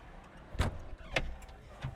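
A McLaren W1 door handle pulled down and the door opening, heard as a few sharp, quiet mechanical clicks and clunks spaced about half a second apart against a faint background.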